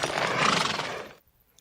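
A horse whinny sound effect in a Star Trek Generations radio drama, a single loud, bright neigh lasting just over a second before cutting abruptly to near silence.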